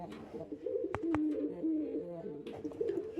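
Pigeons coo softly and repeatedly inside a breeding cage, low rolling calls close by with a few sharp clicks between them.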